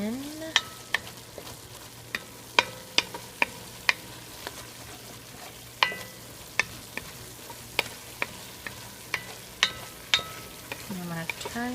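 Ground hamburger meat mixed with taco seasoning being stirred in a pan, the utensil scraping and tapping the pan in a steady series of sharp knocks over a low, continuous sizzle, with no talking.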